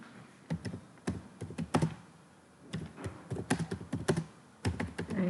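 Computer keyboard typing while creating a new database user: a close, quiet burst of irregular key taps and clacks, pausing briefly before resuming in quick runs, with no voices.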